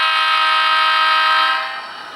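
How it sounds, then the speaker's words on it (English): SD40 locomotive horn on a model train layout, one sustained bright multi-tone blast that holds steady and then fades slightly at the end. "We love those horns on them SD40s."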